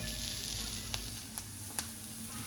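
Hot oil sautéing for egg bhurji, a soft, steady sizzle with a low background hum and a few faint sharp clicks from a spatula, quiet and without talk.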